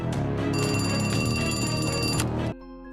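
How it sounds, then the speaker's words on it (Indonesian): A telephone rings steadily with a bright, continuous electronic trill inside a police negotiation scene in the Spanish crime drama Money Heist, loud and unbroken before cutting off abruptly near the end. "Telepon pun berdering"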